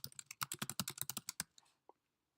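Rapid keystrokes on a computer keyboard entering a card title: a quick, close burst of about a dozen crisp clicks, then a couple of isolated taps before silence.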